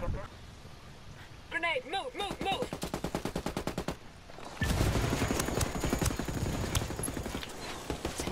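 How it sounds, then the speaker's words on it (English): Rapid automatic gunfire bursts and single shots in a video game firefight, loud and rhythmic, mixed with shouting players' voices and game sounds. "Under heavy fire!"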